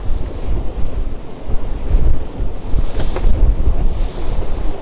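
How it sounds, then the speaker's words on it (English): Waves slap and spray against a sailboat under way in lumpy seas at a race start, a loud rushing surge with heavy wind buffeting the microphone in uneven pulses. "Starting to get some good spray"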